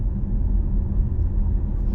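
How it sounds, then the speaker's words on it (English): A 2020 Alfa Romeo Stelvio Lusso TI diesel engine drones steadily with a low, continuous rumble, heard from inside the cabin at moderate level without talk. "the other problem I've got with it ever so slightly is the diesel noise from it"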